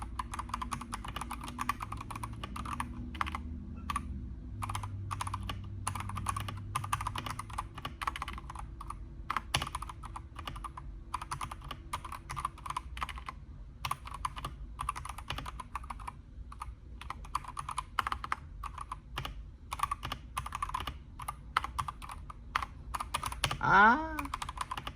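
Steady keystrokes on a Redragon K668 RGB gaming keyboard, a continuous run of clicky, moderately loud presses close to the mic with faint low background noise.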